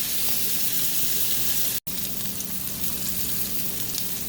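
A blackened grouper fillet sizzles loudly and steadily in a hot pan, a dense continuous hiss broken by a brief cut of silence midway, with no voices.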